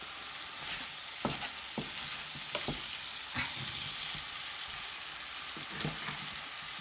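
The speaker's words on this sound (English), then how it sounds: "And we leave it cooking, stirring a little bit, for 5 minutes." Apple pie filling sizzles and fries in a small pan, a steady close hiss broken by scraping clicks and knocks as a spoon stirs it now and then, with no talking.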